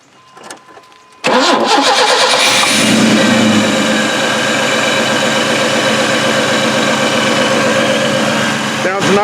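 A V6 car engine cranks and catches after a quiet moment, then settles into a steady, loud, smooth idle that runs to the end, with voices talking faintly over it.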